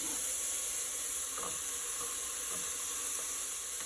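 Onion sizzles in melted butter in a pot, a steady close hiss with a few faint stirring clicks, no voices.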